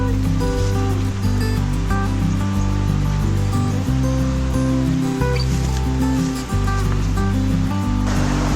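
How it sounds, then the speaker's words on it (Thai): Water from a natural forest waterfall rushes steadily and loudly, close by, as a continuous broad roar. A low tonal hum runs underneath with brief dips, and no one speaks. "เป็นน้ำตกธรรมชาติแบบดิบๆเลยครับผม"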